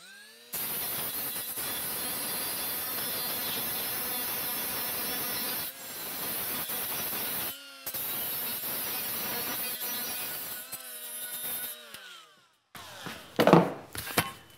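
A die grinder grinds dross off the edges of freshly cut sheet metal, a loud, close, high whine in long sustained passes with short pauses, then some scraping handling noises at the end, with no talking.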